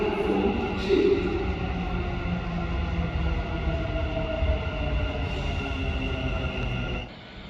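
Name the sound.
metro train arriving at platform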